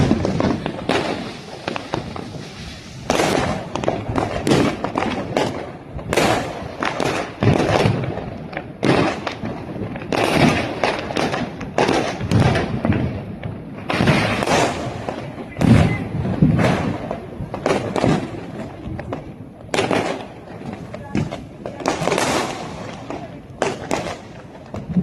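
Diwali fireworks and firecrackers going off in loud, rapid bursts and crackling strings, near and far blasts overlapping almost continuously, with people talking intermittently underneath.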